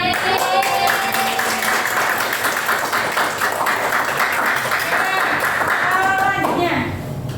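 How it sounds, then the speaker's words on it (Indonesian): A classroom of students clapping together for a winning group, brisk dense applause that holds steady for several seconds and then drops off near the end, with voices mixed in. "Beri tepuk tangan."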